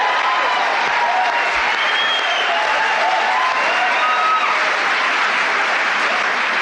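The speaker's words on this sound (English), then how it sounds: "Let's have a nice round of applause for Mr. Barry Crimmins." A studio audience applauds a comedian at a 1986 stand-up showcase, a dense and steady wash of clapping that holds strong for the whole stretch with a few faint cheers mixed in.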